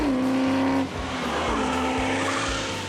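A 1969 Camaro COPO tribute with a powerful engine accelerating hard on a prepped track surface while its tires lose traction, a loud continuous engine roar with a shifting pitch and tire noise, no voices.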